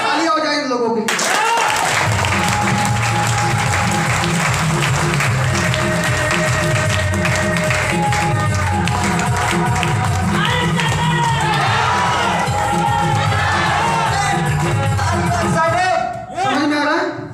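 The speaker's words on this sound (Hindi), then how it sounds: "तालियां हो जाए इन लोगों के लिए।" Sustained applause and cheering from an audience at a live stage program, dense and loud from start to finish with voices and music running underneath, fading briefly at the very end.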